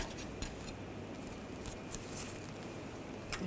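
Side cutters snip the excess ends of a cotter pin during a front lower ball joint replacement on a 2014-2018 GMC Sierra 1500, giving a few faint, sharp clicks scattered over a quiet background.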